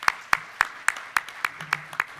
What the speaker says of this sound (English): So again, a round of applause, please, for all of the supporters and the sponsors for the conference.